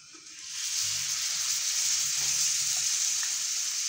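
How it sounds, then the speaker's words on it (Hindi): Marinated chicken drops into hot oil for chicken tikka fried rice and bursts into a loud, steady hiss that swells after a brief quieter start and holds evenly, with no voices. "अब जो चिकन हम लोगों ने मैरिनेट करके रखी हुई थी वो इसके अंदर मैं ऐड कर दूँगी"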